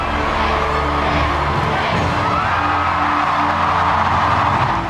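A large outdoor crowd cheers at the royal balcony kiss, a dense, continuous roar of voices with whoops rising through it, held steady and loud throughout.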